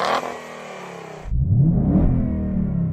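A modified Ford Mustang engine revs hard and close after a quieter start, the burst rising and holding with a rough, throaty roar before easing slightly.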